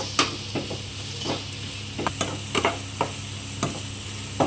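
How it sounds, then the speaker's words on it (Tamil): Tomato thokku being sautéed in a pan, a gentle sizzle under irregular spatula clicks and scrapes against the metal, heard nearby with no voices. "இது நல்லா வதக்கிக்கணும்"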